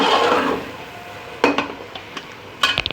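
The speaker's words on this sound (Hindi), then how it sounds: "हम इसको मुसलसल भून रहे हैं" Carrot halwa roasting in a pan, stirred with a metal spoon that scrapes and clinks against the pan a few times in quick, close bursts over a steady low background.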